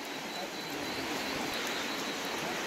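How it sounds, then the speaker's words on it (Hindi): Heavy rain pours steadily in hilly Arunachal Pradesh, a dense, even hiss of falling water that fills the whole stretch without a break. "पूरा बारिश, उपाय नहीं है"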